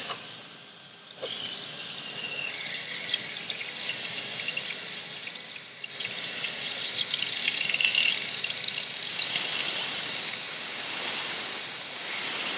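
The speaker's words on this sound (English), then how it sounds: "And then grab your steamer." Handheld steamer hissing in long bursts against a glass wine bottle being heated for cutting, bright airy hiss rising and falling with a short pause, close and moderately loud with light rattling underneath.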